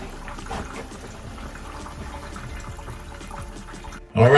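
A peanut butter and jelly sandwich fries in hot oil with a continuous close bubbling crackle, followed by a sudden louder splash and rush of sizzling at the very end as the second sandwich goes in.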